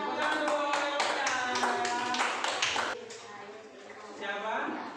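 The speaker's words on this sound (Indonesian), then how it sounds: "Kasih tepuk tangan dulu untuk tim apa ini?" A burst of clapping from a group, brisk and close, with people talking over it, then fading into scattered claps and voices.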